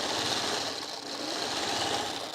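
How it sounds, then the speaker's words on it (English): A sewing machine runs steadily at close range, tacking down a folded star quilt block with an even, continuous whirring stitch and no pauses or talk. "I do like just like tacking it down with the sewing machine each step of the way"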